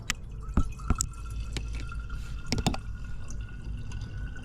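Muddy groundwater pumped into a sample jar beneath a house floor, with gurgling trickles and drips and a few sharp splashes and clicks over a low steady rumble, close by.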